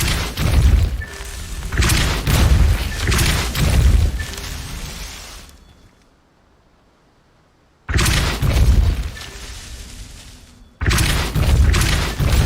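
A Depulso spell cast in Hogwarts Legacy, a heavy booming blast with a crashing, shattering burst, loud and close, then a sudden near-silent pause before the rumbling effects return.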